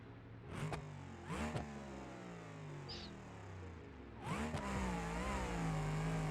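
Truck engine launching off the line in a BeamNG Drive drag race, with several sharp revving bursts rising in pitch through the gears, then a sustained loud acceleration near the end.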